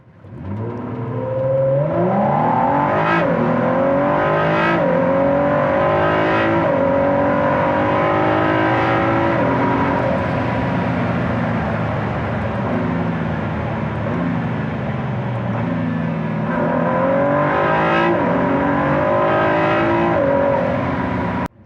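A Ford GT sports car in sport mode revs and accelerates hard from inside the cabin, engine pitch climbing through repeated gear changes with sharp shift blips, loud and continuous throughout.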